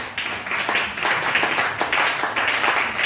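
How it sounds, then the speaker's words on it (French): A church congregation claps and applauds to acclaim the Lord, a loud, dense burst of many hands that keeps going throughout. "On acclame le Seigneur."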